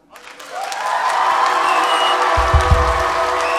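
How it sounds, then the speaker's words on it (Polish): Audience at a 2004 evangelization concert bursts into sustained applause and cheering, building quickly and holding at a steady roar with a deep rumble near the end. "uczcicie Jezusa oklaskami, okrzykami, jak chcecie"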